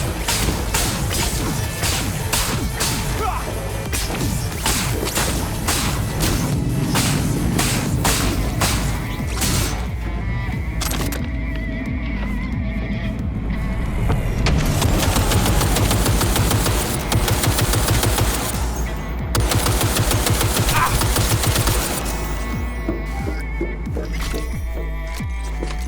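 Gunfire in the video game Cyberpunk 2077, loud dense bursts of rapid automatic shots mixed with heavy impacts and crashes over a continuous game soundscape, lasting throughout with brief lulls.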